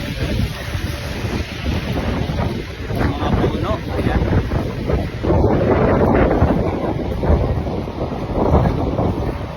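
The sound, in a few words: strong wind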